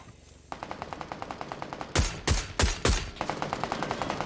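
Rapid automatic gunfire in PUBG, a steady stream of close, sharp shots from about half a second in, broken by three heavier, booming blasts near the middle before the fast rattle resumes.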